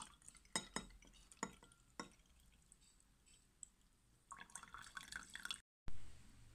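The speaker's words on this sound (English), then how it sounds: "Now I remove excess water." Water drips and trickles as excess liquid is poured off a silver chloride precipitate in a glass beaker, a few sharp close drops early, then a brighter splashing pour near the end, with faint background hiss.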